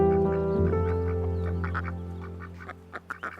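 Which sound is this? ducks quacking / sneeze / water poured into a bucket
ducks quacking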